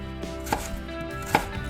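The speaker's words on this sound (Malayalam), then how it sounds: "അത് ഞാൻ മുറിച്ച് മാറ്റുന്നുണ്ട്." Two sharp knife chops cut the hard core away from a pineapple on a board, each a clear, close thud with quieter handling sounds between and no voices.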